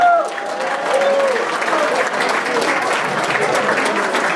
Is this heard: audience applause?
yes